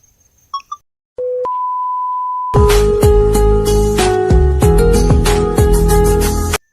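A phone call being placed: a few short beeps, a steady tone, then a repeating electronic ringtone melody that plays loudly and clearly to the end.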